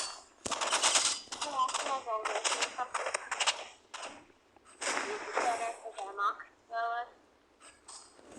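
Rapid bursts of video game gunfire crackle in repeated volleys, loud and close, with someone speaking Latvian over and between the shots.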